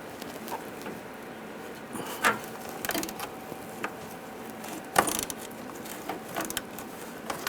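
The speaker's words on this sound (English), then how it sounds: "Now using a 10mm socket, we're going to take this bolt out." A 10mm socket ratchet backs a bolt out of a fender bracket on a 2011-2018 Ram 1500, giving scattered mechanical clicks and a few sharper knocks, close and fairly quiet with no talk.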